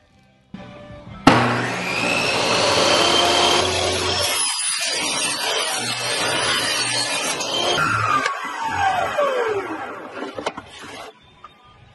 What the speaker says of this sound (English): So you run it through the table saw